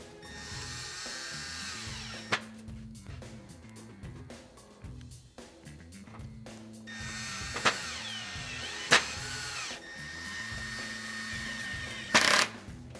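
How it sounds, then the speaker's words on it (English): A Phillips head power driver tightens the roof rack crossbar on a Land Cruiser 100 Series, with several short whirring bursts separated by pauses and occasional sharp metallic clicks, close and fairly quiet. "you'll just use a standard Phillips head drive and go ahead and tighten it down"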